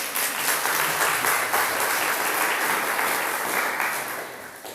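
Sustained applause from a church congregation at a Catholic sermon honoring Our Lady, dense and steady throughout, tapering slightly at the end, with no voices over it.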